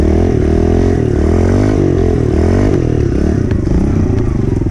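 A dirt bike engine revs loudly and continuously as the rider pulls a wheelie, its droning note rising and dipping with the throttle, close and dominant throughout.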